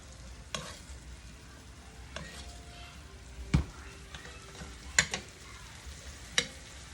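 Steak frying in a frying pan, a soft steady sizzle running throughout with a few sharp clinks and knocks of utensils against the pan.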